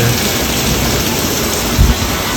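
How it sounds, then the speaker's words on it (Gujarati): Heavy rain pours down in a dense, loud, continuous roar, with a brief low thump near the end. "વરસાદ જો કેટલો બધો ફાસ્ટ આવે"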